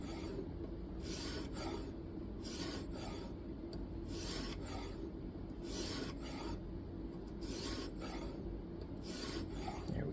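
A Kizer Domin knife with an N690 steel blade is sharpened on a 1000 grit stone in repeated rhythmic rasping strokes, each a short gritty scrape, close up and steady with no speech.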